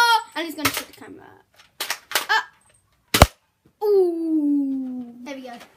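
A toy gun fired at the camera, several sharp close pops spaced apart between excited voices and a child's babble.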